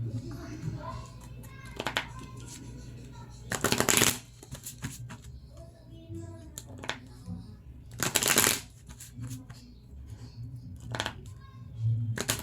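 Tarot cards riffled and shuffled by hand, with two loud bursts of riffling and softer card handling between them, while a voice speaks quietly in the background.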